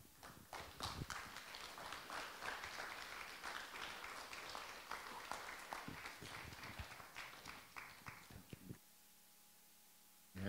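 An audience at a church anniversary gathering claps for several seconds in a dense, steady patter, with a faint voice underneath, before it stops abruptly and leaves a quiet room.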